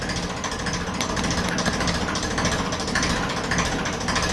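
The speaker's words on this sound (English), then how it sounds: "You can actually hear the engine." A steady, rattling diesel engine drone from a 1954 Ferguson TEF 20 tractor idling runs throughout at a constant level, with a rough knocking texture and no voices over it.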